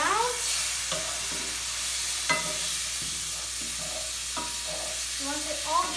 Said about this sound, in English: adding your chicken liver. So then you're going to sizzle very quickly